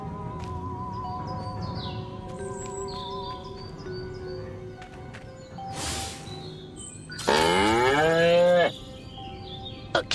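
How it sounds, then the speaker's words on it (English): Cattle moo in the Destroy All Humans video game, a few drawn-out lowing calls against a farm background with bird chirps, the loudest long moo near the end. "Again with the moo?"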